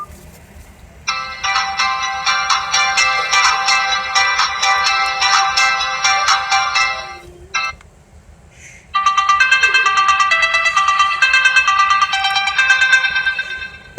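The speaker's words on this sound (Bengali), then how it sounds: "চলুন দেখা যাক যে ফোনটির রিংটোনের সাউন্ড কতটা ভালো" The built-in ringtone of an RFL Proton E30 phone plays a loud, bright electronic melody in two long bursts separated by a brief pause, with the second passage fuller and slightly louder.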